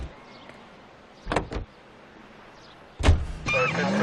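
A car in the video game L.A. Noire gives a few short door and mechanism clunks, then a car sound rises and holds steady, moderately loud.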